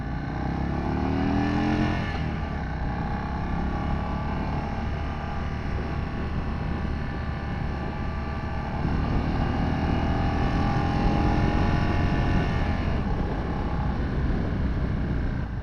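An Indian Chief Bobber motorcycle pulls away and accelerates, its engine note rising through revs as a steady roar, then easing and building again, with wind noise and no speech.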